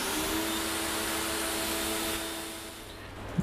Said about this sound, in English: Now I'll just turn the pressure washer on